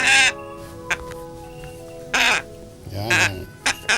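A pet bird gives loud, harsh, cawing calls in several separate bursts with short quiet gaps between them, heard close up indoors.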